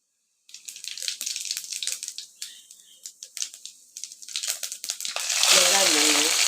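Cumin seeds dropped into hot oil crackle in quick irregular pops for several seconds, then swell into a louder, continuous hiss at the close.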